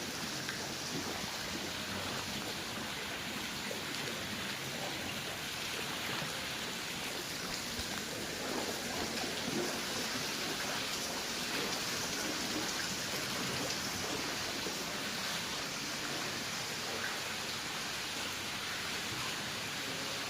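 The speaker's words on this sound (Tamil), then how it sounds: "இது ஈவினிங் இந்த மழை அடிக்குது." Heavy evening rain pours onto a school road in Kayalpatnam, a dense, steady hiss of downpour that stays constant from start to finish with no voices.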